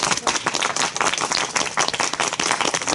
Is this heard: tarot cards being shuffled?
no